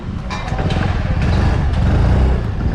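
A Yamaha RayZR 125 BS6 2020 scooter hums steadily from its quiet silencer, a low, even engine drone heard close up with no talking.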